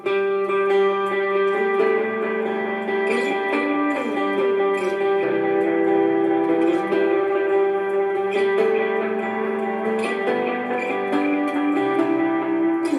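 A continuous electric guitar riff played at full tempo with steady, driving notes and a slightly overdriven tone, loud and close.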